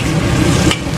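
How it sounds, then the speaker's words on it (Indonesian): Special nasi goreng being stir-fried in a wok at a long-running street stall, a dense, loud, continuous sizzle with scraping stirring over a low rumble. "Nah ini nasi goreng spesial Pak Darum ya."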